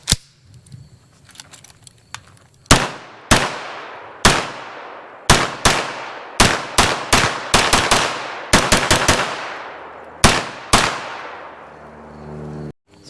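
A Beretta PMX-S pistol fitted with a brace fires 9mm Fenix ammunition. Around fifteen loud, sharp reports come in single shots and quick irregular clusters, each ringing off with a short echoing tail.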